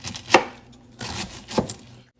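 A knife chops shredded cabbage on a cutting board for gyoza filling, with three distinct, fairly close chopping strokes spaced out, each a sharp thud against the board.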